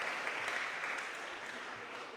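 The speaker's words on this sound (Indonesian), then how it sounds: "Kasih tepuk tangan lebih meriah lagi buat mereka." A church congregation applauds the mothers during a Sunday service, with dense, steady clapping that fades slightly toward the end.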